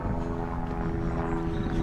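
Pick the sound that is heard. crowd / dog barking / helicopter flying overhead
helicopter flying overhead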